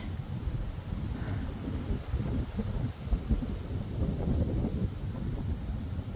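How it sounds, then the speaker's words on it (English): Deep thunder rolls in a low, continuous rumble, with a steady wash of wind and rain noise over it. "I've been out here listening to the thunder rolling"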